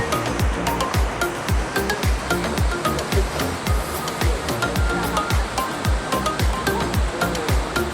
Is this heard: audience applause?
no